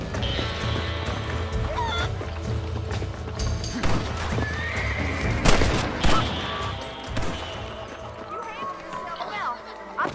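In the Red Dead Redemption video game (2010, Xbox 360), a horse whinnies loudly and hooves clip-clop amid bursts of gunfire, with a busy, layered game soundscape that fades somewhat toward the end.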